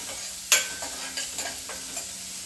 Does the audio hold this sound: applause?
no